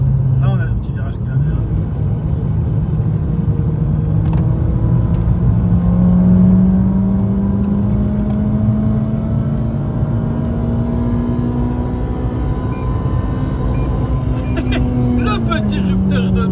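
A Renault Clio 3 RS engine revs hard in the cabin as its tone climbs steadily, holds near the limiter at about 8000 rpm, then drops off. The engine drone stays loud and continuous, and someone talks over it.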